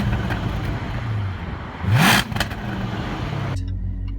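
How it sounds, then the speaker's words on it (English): Jaguar F-Type R exhaust with the baffles closed gives a steady, muted engine note, swells into a short rev near the middle, then cuts off abruptly near the end. No one speaks. "You have two modes here for your exhaust tone. One tone you can run on they close the baffles on the exhaust."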